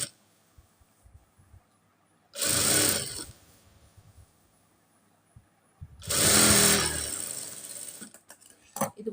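A sewing machine stitching the sleeve of a nighty, running in two loud whirring bursts of a few seconds each, separated by near-quiet handling sounds.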